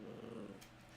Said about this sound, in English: she's doing these soft little growls